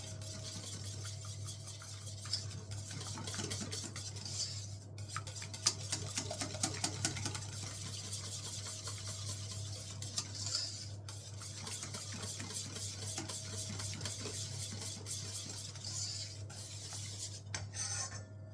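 Yeast being mixed into waffle batter with a mixing tool, a steady continuous whirring and scraping with a constant low hum, close and even, running for the whole stretch without talking.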